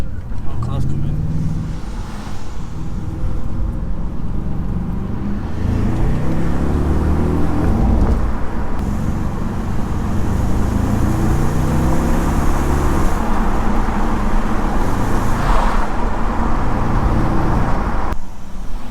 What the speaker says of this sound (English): Oh, car's coming.